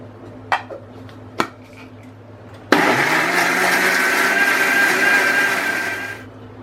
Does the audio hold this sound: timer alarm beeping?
no